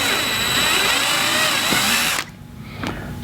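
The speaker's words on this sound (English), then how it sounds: "I'm using a 13/64 drill bit." A power drill with a 13/64 bit whirs loudly for about two seconds, opening holes in a kayak hull, then stops, leaving faint handling clicks.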